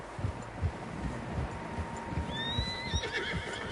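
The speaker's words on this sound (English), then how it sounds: "Horses, quite a few of them." Horses in Red Dead Redemption 2 snort and whinny while hooves clop steadily on the ground, set against faint outdoor wind.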